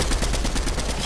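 Rapid gunfire in the video game Fortnite, a fast rhythmic string of loud, close shots repeating about a dozen times in a second, with no talk over it.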